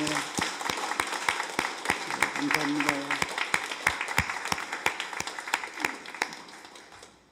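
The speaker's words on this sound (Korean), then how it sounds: "박수하겠습니다." A church congregation at a Sunday worship service applauds in a steady burst of clapping that fades out gradually, with a voice speaking briefly over it.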